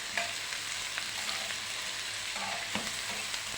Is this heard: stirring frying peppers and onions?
yes